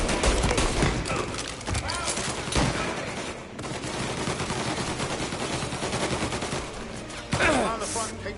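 Gunfire in Mafia Definitive Edition crackles in dense, rapid bursts, close and loud, with a heavy shot near the end. Voices shout over the shooting.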